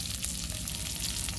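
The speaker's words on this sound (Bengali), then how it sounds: "কাঁকরোল ভাজির জন্য তেল গরম দিলাম। এবারে দিয়ে দেব চিংড়ি মাছ" Shrimp frying in hot oil for a teasel gourd fry, a dense crackling sizzle that stays loud and even throughout, heard up close with no voices.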